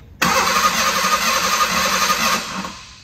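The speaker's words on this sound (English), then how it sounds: "And if I crank the engine," Engine cranking on a Ford Bronco II: a starter motor whirs steadily and loudly for over two seconds close to the microphone, then cuts off abruptly without the engine catching.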